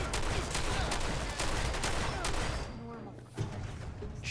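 Rapid gunfire in Fallout 4 rattles in dense bursts of loud shots for several seconds, then thins out to a few scattered shots and fading echoes.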